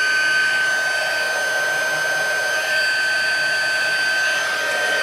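A heat embossing tool blows steadily as it warms up, a continuous close, loud hair-dryer-like whoosh with a thin high whine, unbroken for the whole stretch and with no talking.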